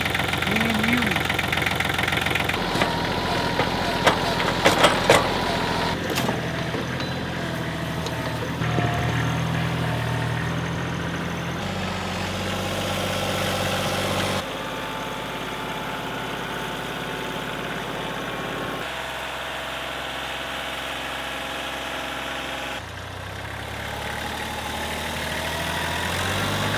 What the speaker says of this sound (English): So I've been trying for the last hour to get the tractor to the plow,